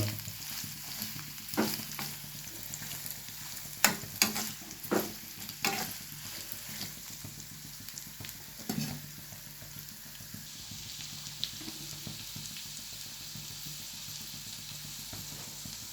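Carrot pieces frying with green chillies in a pan over a low flame for lemon rice, a steady soft sizzle with a few sharp stirring scrapes early on, then a quieter even hiss.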